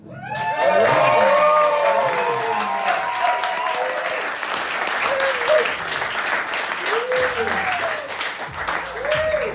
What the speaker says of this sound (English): I want you guys to give a big Copenhagen tantric weirdo hug, clapping, don't touch anybody, for Alan.